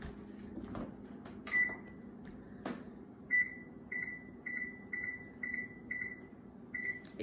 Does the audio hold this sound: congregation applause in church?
no